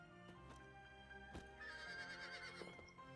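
Horse in a Zelda video game neighs in a long, wavering whinny, joined by a few sharp hoof clops and thuds, fairly quiet and with no voices.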